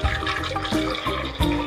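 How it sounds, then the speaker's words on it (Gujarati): Water gushes and splashes into a pot of potatoes being set to boil, a loud, close pour lasting under two seconds with a few sloshing surges. "એટલે જો આ બટેટાના પાણી નાખા"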